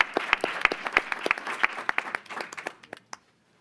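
An audience at a panel discussion applauds with dense, steady clapping that thins out and stops near the end, leaving silence.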